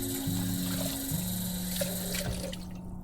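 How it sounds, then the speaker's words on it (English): Tap water running into a cup being rinsed at a kitchen sink, a steady close rush with small splashes over a low humming background tone, no talk. "I'm just going to rinse out the cup"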